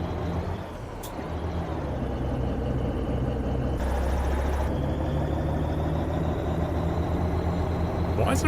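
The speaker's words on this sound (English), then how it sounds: "it's a plane that sounds like a helicopter." A low propeller plane droning overhead with a helicopter-like throb, steady and continuous beneath heavy truck engine rumble in a cab, rising slightly toward the end.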